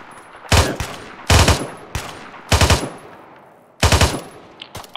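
Heavy gunfire in a military shooter game, five loud close bursts of automatic fire spaced about a second apart, each a sharp broadband crack with a rumbling tail, between brief quieter gaps and no talk.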